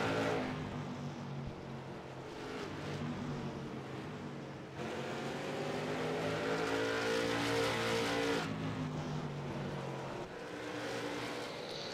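Race car engines from a sim racing video game at Langley Speedway during a 200-lap short-track race, a steady, droning roar with rising and falling pitch as cars pass, distant and continuous with no talk.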